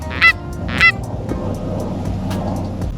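Canada geese honk twice in close succession on an Eastern Montana goose hunt, followed by fainter, more distant honks over a low, steady rumble of outdoor background noise.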